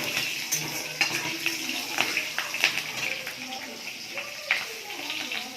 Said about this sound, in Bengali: তেল গরম হয়ে গেছে, কালো জিরে দিয়ে দিচ্ছি, আর হচ্ছে কাঁচা লঙ্কা ফোড়ন দিয়ে